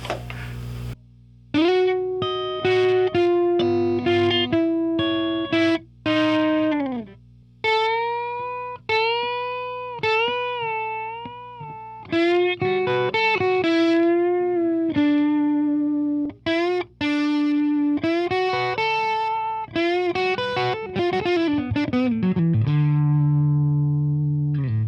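A single-coil electric guitar on its middle pickup, through an overdriven Plexi-style Mojotone British 45 kit amp, plays a gritty, slightly overdriven melodic line of sustained, bending notes and quick runs, loud and up front.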